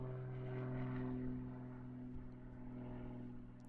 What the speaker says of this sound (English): another one of his trademark takeoffs, dipping the wings for the judges